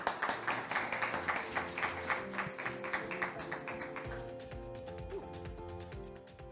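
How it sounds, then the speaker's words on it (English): Audience at an international design research forum claps in welcome for a speaker, a burst of brisk, fairly dense applause that thins out toward the end, with a sustained tone beneath. "Let's now welcome Professor Witcher with a round of applause."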